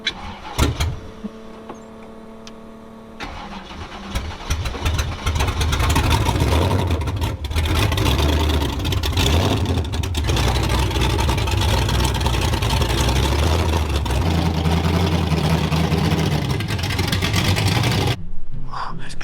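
A vehicle brought out to the shop for winterizing cranks and starts up, then settles into a steady, loud running engine that holds for most of the stretch before cutting off at the end.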